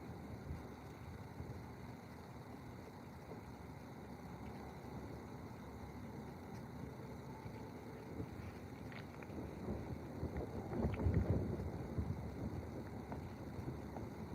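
Steady wind buffets the microphone out on an open frozen lake while ice fishing, a constant low rumble that swells into a stronger gust near the end, with no voices.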